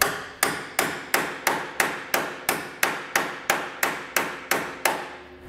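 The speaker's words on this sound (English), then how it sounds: "I'm just gonna get a hammer and give it a little tappy until it sits a little more flush." A hammer taps a Roadmaster crossbar-style base plate flush against the front of a 2017 Subaru, striking about a dozen sharp metallic blows at a steady, even rhythm, close up and with no talk.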